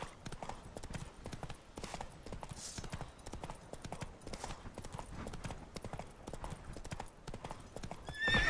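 A horse gallops in The Witcher 3: Wild Hunt on PS4, its hooves beating a fast, steady rhythm throughout, with a whinny and game music and effects behind it.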